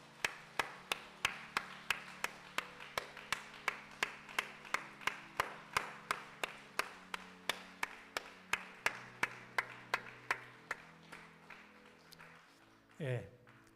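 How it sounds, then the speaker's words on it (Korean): A church congregation at a Sunday morning service claps in unison for its members, students and children, with about thirty crisp, evenly spaced claps at a steady beat that fade slightly before a short voice closes the run. "우리 전할 때 여러분들 큰 박수로 격려해 주시기 바랍니다"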